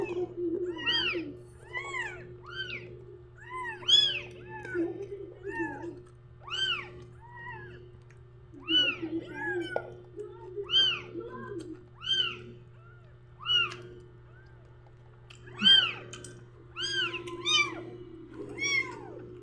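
A kitten meows over and over in high, insistent cries, one every second or so, over a faint steady hum.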